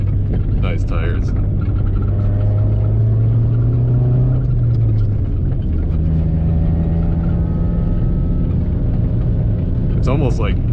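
Honda Civic wagon with real-time four-wheel drive on Hankook Winter i*Pike snow tires, driving over snow and ice: a steady low engine drone with rising and falling revs heard from inside the car, with someone talking over it.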